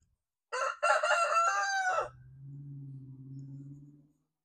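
A rooster crows loudly and close by, a long harmonic call of about a second and a half, followed by lower clucking from chickens in an outdoor backyard flock.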